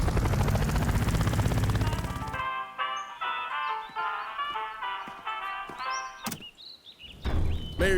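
A cartoon rescue helicopter flies with a dense, loud rotor roar for a couple of seconds, then gives way to music and scattered effects.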